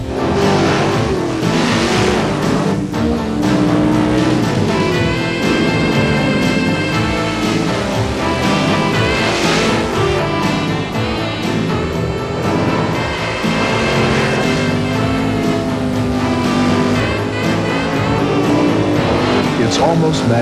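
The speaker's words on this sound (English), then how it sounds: "A cloud of smoke, the whine of a Hemi engine" Mopar race cars with Hemi engines roar loudly and steadily at a drag racing event, the engine note rising and falling with sustained revving throughout.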